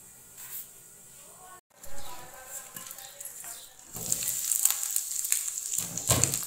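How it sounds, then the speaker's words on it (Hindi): Minced meat (keema) frying dry in a pan on a stove, a soft steady sizzle and crackle that grows busier and brighter toward the end, with faint patter and no talk over it. "देखिए कीमा हमारा बिल्कुल खुश्क हो गया और बहुत अच्छा सा ये फ्राई हो गया।"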